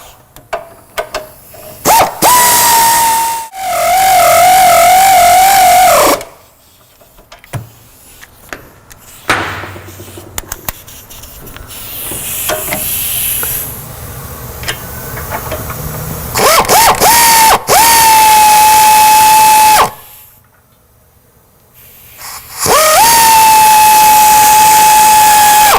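A pneumatic air tool tightening suspension link bolts on a 2015 Ford Mustang, with several loud close bursts of high whine and hissing air separated by pauses, clanks and shop noise.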